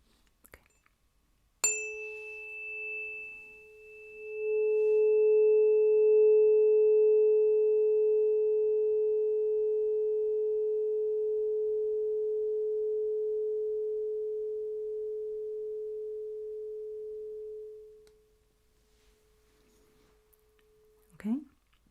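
A single pure headphone hearing-test beep sounds as one long, steady, clean tone lasting about sixteen seconds, starting after a soft click and fading out before a brief quiet rustle.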